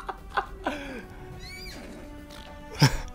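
Horse neighing inside the Borderlands 2 video game: a couple of short whinnies with rising and falling pitch over game ambience, moderately loud and close, with a sharper burst near the end.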